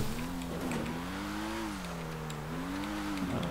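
Car engine in GTA Online humming steadily at close range, its pitch rising and falling gently as the vehicle drives over uneven ground, with a slight revving swell near the end.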